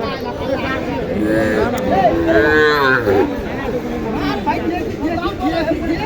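A cow moos loudly and close by at a busy rural cattle market, one drawn-out low call rising over a steady crowd murmur and nearby talk.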